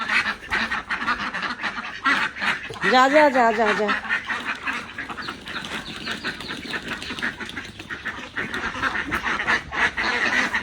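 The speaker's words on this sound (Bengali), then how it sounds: "এই যে আমার হাঁস চলে গেল" Domestic ducks quack in a rural yard as they are let out in the morning, a loud rhythmic honking quack burst near the start amid scattered calls, while a person shouts and talks over them.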